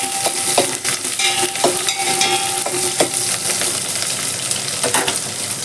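Green and dried chillies and onions frying in oil in a pan, close and loud. A continuous sizzle runs throughout, with a spoon scraping and clinking against the pan at irregular intervals while the mix is stirred.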